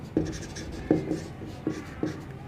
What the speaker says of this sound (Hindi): जैसे एक वाक्य लिखता हूँ